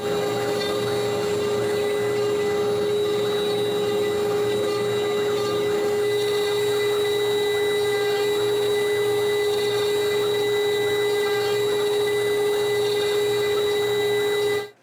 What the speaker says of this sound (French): c'est parti pour percer le trou du bec